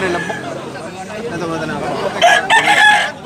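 A rooster, a bullstag gamecock, crows loudly near the end, following a stretch of people talking and background chatter in Tabunok, Cebu.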